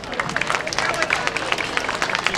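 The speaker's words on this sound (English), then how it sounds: "Give them a big round of applause." Audience applause for mall sponsors at a Soy & Tofu Festival welcome in San Francisco's Japantown: dense, steady clapping from a crowd, continuous throughout with a light murmur of voices underneath.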